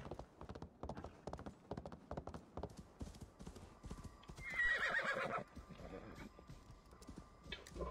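Rhythmic clip-clop of horse hooves galloping in Assassin's Creed Valhalla, steady and close throughout, with a horse whinny bursting in midway over the hoofbeats.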